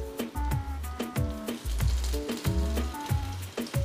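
Frozen peas sauté in melted butter in a pan, with a continuous bright sizzle and a rhythmic series of spatula scrapes and stirs close up.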